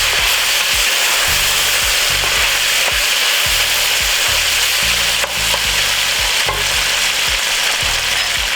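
Beef frying in its own rendered fat in a pan, a steady loud sizzle with occasional scraping stirs, no voices.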